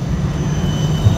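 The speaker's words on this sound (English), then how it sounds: "because the tram is coming" An Amsterdam tram passes on a street tramway, giving a steady low rumble of wheels on rails that stays close and fairly loud throughout, with a slight swell near the end and no talk.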